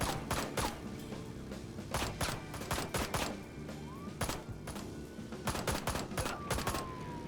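Repeated bursts of video game gunfire in Ride to Hell: Retribution on Xbox 360, sharp shots cracking in irregular clusters over a steady background of game music and ambience.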